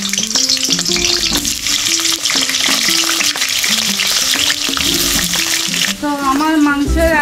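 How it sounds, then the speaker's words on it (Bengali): Mutton potatoes fry in oil in a wok with a steady sizzle and occasional stirring, partly covered by a melodic tonal line that runs over it throughout. "আমি মাংসের আলুগুলো আগে ভেজে নেব,"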